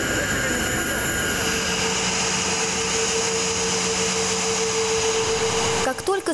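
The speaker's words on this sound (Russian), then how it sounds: "самолет из Екатеринбурга приземлился" A passenger airplane from Yekaterinburg lands at Saratov airport, a loud, steady broadband jet roar with a thin sustained whine running throughout, then broken by a sudden rough shift in the last half second.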